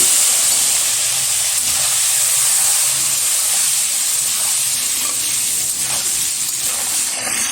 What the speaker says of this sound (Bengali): ফাইনালি আমি এবার ডিমটা ভেজে নেব।